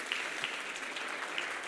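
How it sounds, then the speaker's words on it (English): A church congregation claps hands together, a soft, fairly distant patter of many hands with a few sharper individual claps standing out over about two seconds. "Let's all stand and clap our hands unto the Lord"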